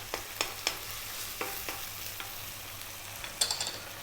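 Garlic ginger paste, a 50-50 mix of garlic and ginger, frying in a pan for yellow dal, with a steady low sizzle broken by a few sharp clanks and scrapes of stirring.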